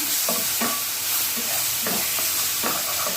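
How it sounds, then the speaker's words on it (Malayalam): Banana pieces frying in a pan give a loud, dense sizzle, with repeated scraping strokes of a spoon stirring them through, heard up close without any talk. "പഴം ചേർത്ത് കൊടുക്കാം കേട്ടോ ഒന്ന് നല്ലപോലെ മിക്സ് ചെയ്തെടുക്കാം"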